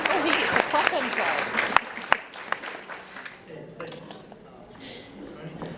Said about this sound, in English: he gets a clap intro.